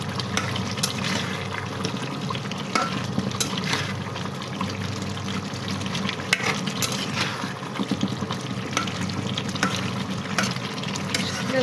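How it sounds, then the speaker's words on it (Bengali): Pieces of tough desi chicken sauté with a splash of water in a pan over a firewood stove, making a steady close sizzle and bubbling with light stirring scrapes throughout. "পানি দিয়ে কষিয়ে নিচ্ছি, আসলে দেশি মুরগি তো তাই একটু শক্ত হবে, যার জন্য আমি একটু কষিয়ে নিচ্ছি।"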